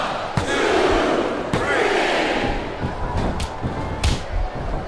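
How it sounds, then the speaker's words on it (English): Roaring capacity crowd in a wrestling arena during a six-man battle royal in WWE SmackDown vs Raw 2007, loud sustained cheering punctuated by sharp slaps and thuds. "Look at him feeding off the energy from this capacity crowd."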